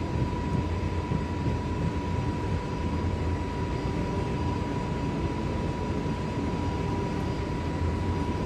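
A simulated airliner rolls down the runway for takeoff in Microsoft Flight Simulator 2020, with a steady, loud, broadband engine roar and a faint constant whine, unchanging throughout.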